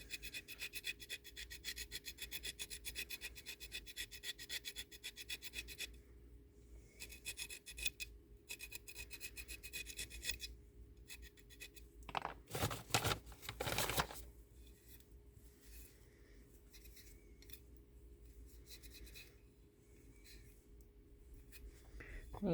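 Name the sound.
sanding down a resin mold pour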